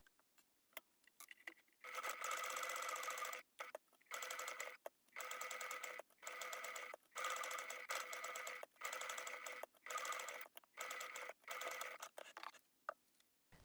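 Sewing machine stitching all the way around a bag made from denim jeans, running in repeated short bursts with brief stops between, fairly close and clear with no talk.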